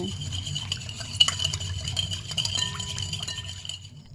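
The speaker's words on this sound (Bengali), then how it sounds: "এবার এর মধ্যে দিচ্ছি এক চামচ পরিমাণে চিনি সামান্য পরিমাণে লবণ এবার ভালো করে একটু মিশিয়ে নেব" Warm milk with yeast, sugar and salt is stirred with a spoon in a bowl for bread dough, giving light, continuous clinking and scraping against the sides.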